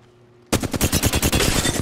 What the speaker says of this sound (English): I'm gonna pop shots.